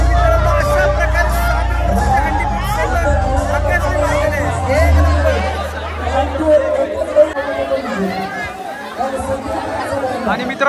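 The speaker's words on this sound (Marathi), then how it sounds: "जल्लोष बघताय सगळेच जण एकदम खुश झालेत" A festive crowd at a Dahi Handi celebration with a water-tank handi in Kurdus village, Alibag, fills the air with loud, dense cheering and excited chatter, a steady roar of many voices that eases slightly toward the end.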